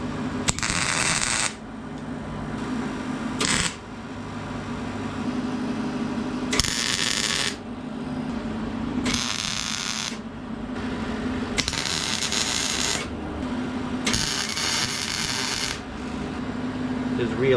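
Tack welds go onto a catalytic converter being fitted to the exhaust of a diesel BMW X5 35d, heard as about six crackling, hissing bursts of one to three seconds each, separated by pauses over a low steady hum.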